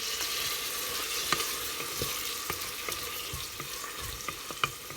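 Onions and tomatoes fry in a pan with spices, giving a steady, soft sizzle. Faint clicks and scrapes of stirring break through it now and then. No one speaks.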